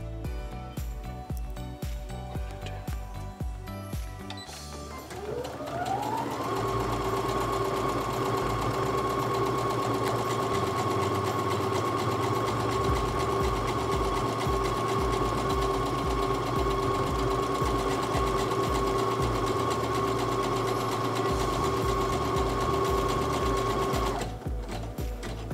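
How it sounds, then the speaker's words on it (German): A domestic sewing machine stitches buttonholes on the button placket of a summer blouse or tunic, starting with a few clatters, then running at a steady loud hum with a whining tone for about twenty seconds before stopping. "Zeichne dir die Knopflöcher auf der oberen Leiste einmal ein und nähe die Knopflöcher anschließend."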